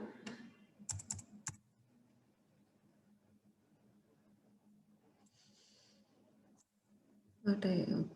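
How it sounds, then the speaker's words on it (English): Keys clatter on a computer keyboard in short quick bursts at the start and end, with quiet gaps between and a faint hum underneath. "I'll type the program."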